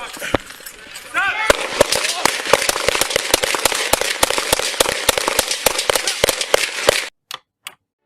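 A long rapid string of gunshots rings out at close range during a police standoff at a Dollar General store, dense and sharp for several seconds before a few final shots, with voices shouting underneath.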